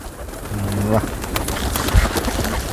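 Pigeons cooing nearby at a bull's shed, a low throaty warble repeated a couple of times, with people talking over the birds in the background.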